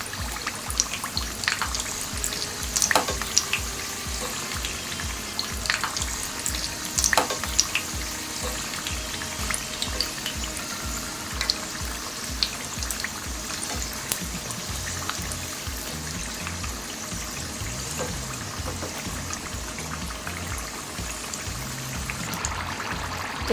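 Mutton keema samosas deep-frying in hot oil over a high flame as they are turned: a continuous, even bubbling hiss throughout, with a few faint clicks and scrapes.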